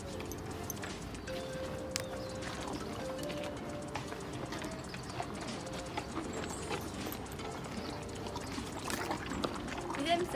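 A horse being fed homemade treats shifts about, its hooves clip-clopping in quiet, irregular steps over a soft background, with occasional small knocks.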